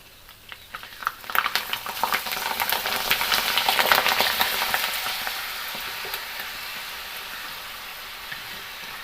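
Homemade spinach papad deep frying in hot oil, a bubbling crackle that swells after a second, peaks loudly, then eases into a steady softer sizzle.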